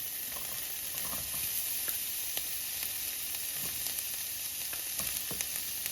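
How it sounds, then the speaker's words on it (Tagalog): Onions frying in oil in a pan give a steady, quiet sizzle with small crackles scattered throughout, no voices over it. "you're going to add some oil. Ilunod na natin ang ating onions."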